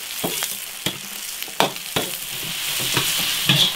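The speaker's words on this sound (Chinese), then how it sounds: "少油，洋葱下个炸香，把这洋葱的香味给它炸出来" Chopped onions frying in a little oil in a wok, a steady sizzle broken by sharp scrapes and clacks of a spatula stirring close by, with no talk.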